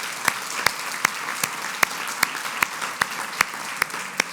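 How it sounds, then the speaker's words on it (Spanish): During a church service, a congregation claps in a slow, steady unison rhythm, with about a dozen sharp, evenly spaced claps over a soft murmur and background music. "Démosle un aplauso al Señor por la vida de Dios."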